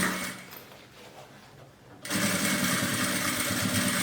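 A sewing machine stitches a finishing seam along the lining of a fabric pouch, with a quiet stretch giving way to a steady, loud, close mechanical whir that runs without a break.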